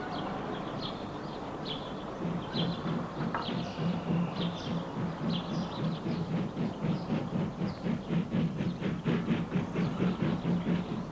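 A goods train rolls into an old steam railway station on a warm summer day, its wheels clicking in a steady rhythmic clatter that grows louder and closer, with a few birds chirping faintly.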